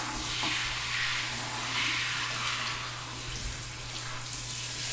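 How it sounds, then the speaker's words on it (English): Water runs steadily from a tap while a lace wig is given a final rinse, making a continuous close splashing hiss with a low hum underneath. "One last rinse through."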